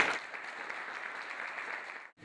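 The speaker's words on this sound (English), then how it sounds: "Give him a round of applause." Audience applause fills a room at a seminar, a short burst of dense steady clapping lasting about two seconds before it breaks off.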